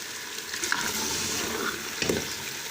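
Paya (trotters) masala being stir-fried and roasted in a pot, a steady close sizzle with scraping stirs and a couple of louder bursts, no talking.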